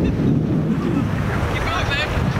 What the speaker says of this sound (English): some people are back there about to get eaten up by the waves